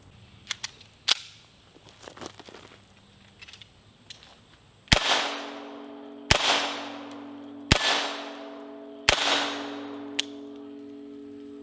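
Sharp gunshots from a USFA Zip 22 pistol: a few scattered shots, then four evenly spaced, loud, close reports, each followed by a ringing decay.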